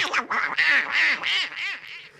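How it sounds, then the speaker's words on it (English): Donald Duck cartoon voice quacking angrily, a rapid burst of about six raspy, nasal squawks close and loud, alone without other talk. "That's Donald Duck angry."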